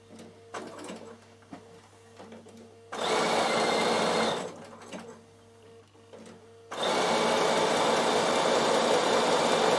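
Bernina sewing machine stitching wool applique, with two loud sustained runs of rapid whirring separated by a pause, after quieter light clicks and handling noises, heard close and alone.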